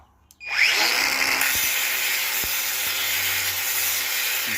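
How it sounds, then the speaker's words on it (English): A spinning disc grinds a corroded part from an XD 2 cylinder head on its flat face, a steady loud abrasive whir starting abruptly and holding close throughout. "So now I must grind this one on the disc, on the flat side of the disc."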